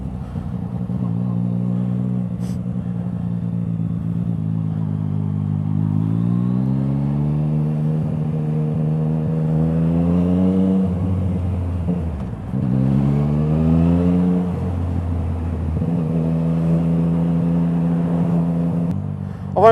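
A Yamaha MT-09 motorcycle with an Akrapovič exhaust rides along, its engine droning loudly and close as it rises and falls through the revs, dipping sharply around the middle before pulling hard again, with steady wind noise underneath.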